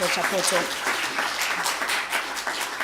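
Dense, steady applause from a conference audience for the panelists at the 10th Annual ReNAPRI Stakeholder Conference, with a voice speaking over the clapping throughout.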